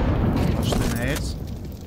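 A grenade blast in Counter-Strike 2 gives a loud, rumbling, low-heavy burst that fades out over about two seconds, with a voice talking over it.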